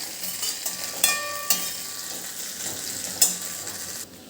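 Stuffed Kathiyawadi green chillies sizzle steadily in a pan as they are turned over, with a few sharp clinks of a utensil against the pan over the constant frying hiss.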